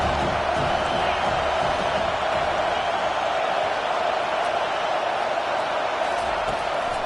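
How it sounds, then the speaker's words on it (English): A college football stadium crowd at Clemson versus Miami roars steadily on a third down, a dense, continuous wash of cheering and whooping that stays loud throughout. "Decibels rising as the crowd gets behind this defense on 3rd down."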